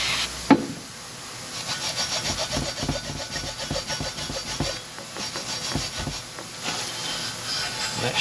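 A Scotch-Brite pad scrubs a Porsche 911 engine in rapid back-and-forth rasping strokes, close and steady, with no talking.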